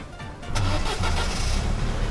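Car engine of a freshly spawned vehicle in the storm-chasing game Helicity turns over and starts, then settles into a loud, steady mid-pitched run that fills the rest of the clip.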